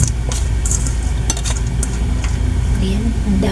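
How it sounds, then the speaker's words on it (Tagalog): Pansit bato noodles drop into boiling broth in a pot, with bubbling, stirring and scattered metallic clinks of utensil against cookware, close and fairly loud. "Lagay na natin itong ating pansit"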